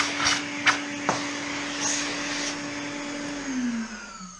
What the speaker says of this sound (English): vacuum that out.